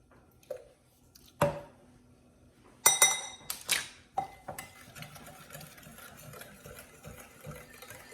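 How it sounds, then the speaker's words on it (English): A spoon stirs rice pudding mixture with vanilla in a bowl, giving scattered clinks and scraping knocks against the dish, with quiet gaps between clusters of sharper taps. "And stir it all up again."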